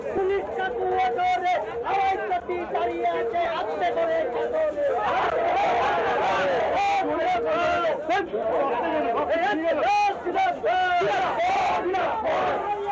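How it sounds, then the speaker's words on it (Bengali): Crowd of marchers at a DYFI rally for permanent jobs chants slogans loudly and continuously, a dense, rhythmic mass of voices close by that fills the whole stretch without pause. "প্রতিটি লোকের যাতে স্থায়ী কাজ এবং কর্মসংস্থান হয় সেই দাবিতে স্লোগান চলছে"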